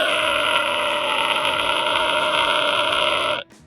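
A low, distorted guttural vocal growl with a rough, demonic two-tone quality, sustained loud and steady for about three and a half seconds before cutting off abruptly.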